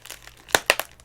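Adhesive tape peeled off a delivered package in a few quick crinkling tears, brief, close and crisp.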